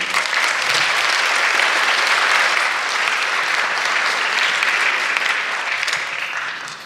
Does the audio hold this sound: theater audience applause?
yes